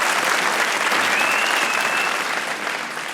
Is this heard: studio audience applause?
yes